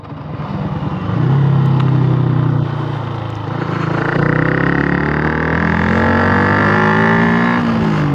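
A Yamaha MT 125 motorcycle fitted with a Mivv GP steel exhaust rides along steadily, its engine note holding a continuous drone that climbs in pitch as it accelerates and keeps pulling.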